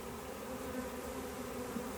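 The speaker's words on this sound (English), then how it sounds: "more and more bees continue to go into this hive." Bees buzzing steadily around a hive entrance as more of them fly in, a continuous close drone with no voices.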